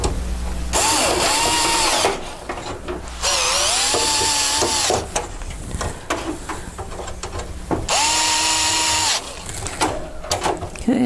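Power screwdriver driving four screws to fasten the back panel of a heater after a rear circuit board replacement: three loud whirring bursts with rising and falling motor pitch, separated by short pauses, close by with no talk.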